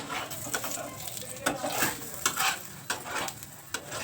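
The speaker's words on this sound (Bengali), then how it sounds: "এবার আমি পাশে দিয়ে তেল দিয়ে দেবো, সাদা তেল।" A potato paratha fries in a pan as white oil is poured around its edges. A close, steady sizzle mixes with repeated taps and scrapes of a spatula on the pan, and no voices are heard.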